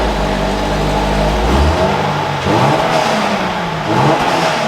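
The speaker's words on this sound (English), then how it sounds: "let's go ahead and fire this up and see what it sounds like." A 2024 Toyota GR86 Trueno Edition with a six-speed manual fires up, its engine catching with a loud rising rev and then settling into a throaty, fluctuating idle with further blips, close and continuous for a few seconds.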